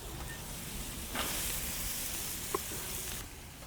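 Chopped onions, about three medium ones, sizzle and hiss steadily in a pan for fajita vegetables, close and fairly quiet, with a couple of brief clinks and no talking.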